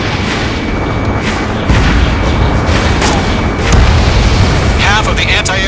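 Missile explosions in the video game Ace Combat 7, heavy booming blasts over a dense, roaring mix of battle noise that swells twice, with no voices.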